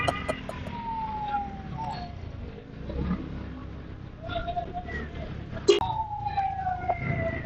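An ambulance siren wails with rising and falling tones as it passes along a rainy street, moderately distant beneath steady traffic rumble and rain, with a sharp click near the end.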